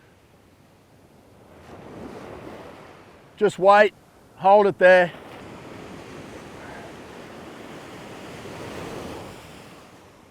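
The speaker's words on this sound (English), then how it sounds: "Let the waves wash that fish in for you." Ocean surf washes up a beach on Australia's east coast during beach fishing, a steady low wash that swells and recedes around short spoken instructions close to the microphone.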